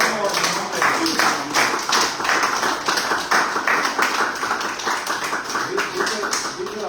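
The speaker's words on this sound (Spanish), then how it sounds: "Entonces, un aplauso en el nombre de Cristo." Congregation at a Christian church service clapping together, a steady dense patter of many hands that holds at an even level throughout, with murmuring voices mixed in beneath.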